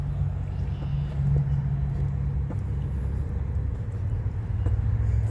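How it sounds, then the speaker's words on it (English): Steady road traffic on Route 100 heard from a creekside trail, a constant low rumble of passing cars at a moderate distance with no clear individual passes. "and there's all your traffic on Route 100."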